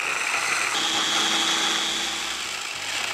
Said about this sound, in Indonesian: Di sini aku halusin pakai food chopper CH200 dari Mitochiba